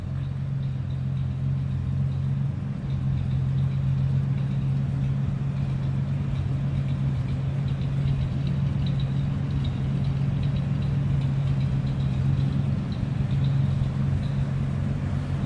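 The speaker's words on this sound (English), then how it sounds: "So obviously that V12 fires right up." A 1946 Lincoln Continental convertible's V12 engine idles smoothly and steadily, a close, constant low hum with no voices over it.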